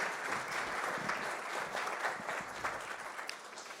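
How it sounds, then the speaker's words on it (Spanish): Audience at a panel discussion on artificial intelligence in the professions applauds steadily for nearly four seconds, a dense, even clapping that holds level throughout with no voices over it. "Un fuerte aplauso,"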